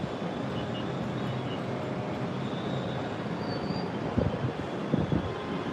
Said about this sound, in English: The wind is shaking my camera.